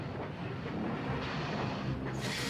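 Toy train trucks clank and creak along the rails in a continuous, rattling rolling noise with a hissing wash, fairly close and steady throughout, with no voices.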